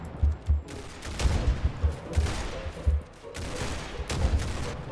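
Rapid gunfire in the Roblox video game: bursts of sharp, thumping shots in quick clusters, loud and near, with a burst of automatic fire.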